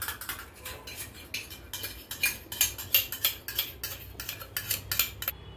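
A metal spoon stirs and clinks against a bowl while mixing sugar for cold coffee, quick irregular scraping taps close up.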